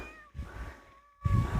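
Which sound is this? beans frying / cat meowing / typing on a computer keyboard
cat meowing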